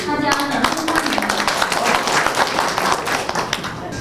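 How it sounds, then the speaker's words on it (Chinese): Dense, steady applause from an audience fills the room at the opening of a cross-strait calligraphy and painting exhibition, many hands clapping continuously at close range for several seconds. "大家掌声欢迎"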